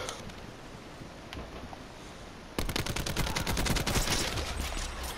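Gunfire in Black Ops 4, a quiet stretch of faint distant shots and ambience that gives way halfway through to a loud, rapid run of close shots, sniper fire in a multiplayer match.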